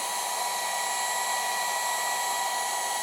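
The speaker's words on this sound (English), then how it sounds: "The heat gun actually works better" A heat gun blows hot air over an acrylic paint pour, giving a steady, loud, even whooshing hiss that runs unbroken throughout with no talking.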